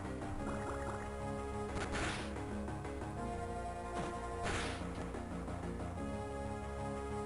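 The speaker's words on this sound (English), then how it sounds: "Let's water gun it." Water Gun attack in the Pokemon Blazing Emerald video game: a steady watery game sound effect with bubbling, gurgling texture and two brief splashy bursts over continuous music-like tones.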